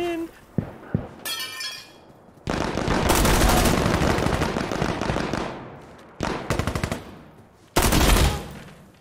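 Gunfire in Insurgency: Sandstorm: a few isolated close shots, then long sustained bursts of loud rapid automatic fire broken by short pauses, with rattling, crackling echoes between volleys.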